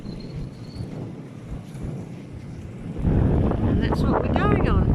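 Strong sea wind buffets the microphone aboard the Interislander ferry Kaiarahi in New Zealand, growing louder and rougher partway through, with a low steady rumble beneath.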